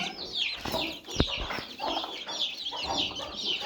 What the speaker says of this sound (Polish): widzimy, że są raczej trzy kurki, jeden kogut